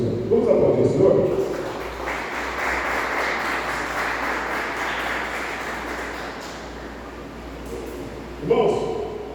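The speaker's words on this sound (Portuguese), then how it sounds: "Vamos aplaudir o Senhor?" A church congregation in Catiguá applauds in a dense, sustained wash of clapping for about six seconds, with voices heard just before it begins and again as it fades.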